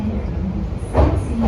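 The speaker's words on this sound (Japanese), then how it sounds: "ただいま到着の電車は観光列車グラン天空高野山極楽橋行きです。" Nankai Gran Tenku tourist train, bound for Koyasan Gokurakubashi, pulling into a platform, a heavy low rumble with rising mechanical rattle as the cars draw near, fairly loud and close.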